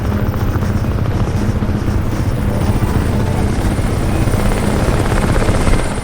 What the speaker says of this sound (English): I'm hearing that helicopter.